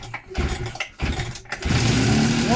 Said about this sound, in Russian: запуск мотора